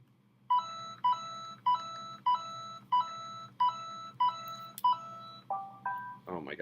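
A phone plays a tonal melodic chime as it begins a software update, eight evenly spaced bright beeping notes followed by a shorter rising flourish, loud and close over a low background hum.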